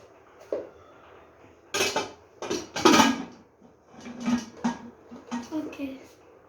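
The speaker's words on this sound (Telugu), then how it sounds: "పైన మూత పెట్టేస్తాను" A lid set on a pot while baking homemade plum cake: a few clanking metallic knocks and scrapes of cookware, moderately close, with a voice talking between the sounds.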